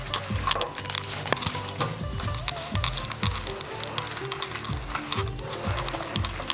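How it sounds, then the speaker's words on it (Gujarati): A utensil beats a thick laddu mixture in sizzling ghee in a flat vessel with quick, rhythmic scraping strokes, close and continuous, with occasional light clinks against the pan. "આવી રીતે એકદમ ઘીમાં ફેટી લેવા"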